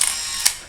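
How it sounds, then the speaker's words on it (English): A Canon T-50 film camera fires its shutter with a close, crisp click, set within the whirring, ratcheting buzz of its motorized film advance, short and mechanical. "Here is a sample of the Canon T-50's shutter sound."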